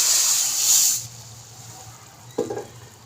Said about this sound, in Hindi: इस दाल पर हम इस तड़के को लगाएंगे।